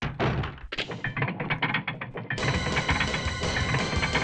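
Crushing ceiling trap in Resident Evil, a game mechanism that starts with rapid thunks and clanks, then shifts to a loud, steady mechanical grinding drone as the ceiling lowers.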